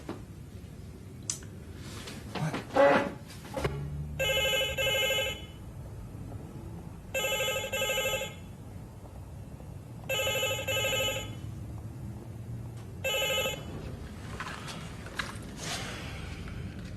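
A telephone rings in a British soap drama scene, four double trills repeating at a steady pace with quiet pauses between them, moderately near, with no talk over it.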